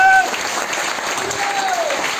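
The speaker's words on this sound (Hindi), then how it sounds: "तालियां बेटे के लिए जोरदार।" An audience at an RCM business seminar in Faridabad claps, a short burst of steady applause that follows a speaker's voice and carries on at an even level.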